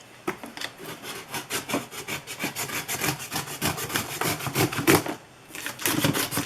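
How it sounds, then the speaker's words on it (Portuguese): A utility knife saws through the flaps of a cardboard box, a close, rhythmic scraping and rasping of quick repeated strokes with a short pause near the end. "Primeiro, a gente vai tirar as abas usando um estilete."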